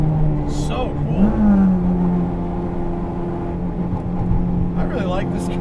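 A 1998 Acura Integra GSR with an all-motor build holds a high, steady idle-free rev around 5,600 RPM, producing a constant, loud engine drone with slight pitch wavering throughout.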